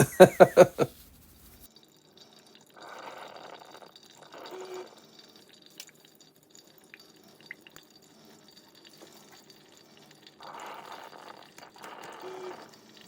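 Ratio Four automatic pour-over coffee maker nearing the end of its brew cycle, quiet bursts of water trickling and dripping into the brewer in separate spells, with a few sharp taps at the start and near-silence between pours.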